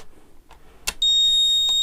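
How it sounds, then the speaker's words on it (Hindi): A homemade satellite signal finder built from a broken set-top box, rechargeable, lets out a click and then a loud, steady, high-pitched buzzer tone that holds without a break to the end. "बजर बजना शुरू हो गया।"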